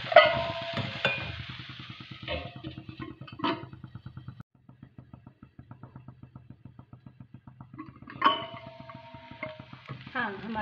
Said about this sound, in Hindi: अब हम ढक्कन खोल कर देखते हैं थोड़ा चम्मच चलाने के लिए